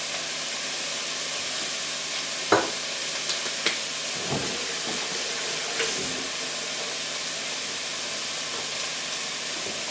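Vegetables sweating in a pan while being turned, giving a steady close sizzle with a few faint clicks and scrapes of stirring, no talking.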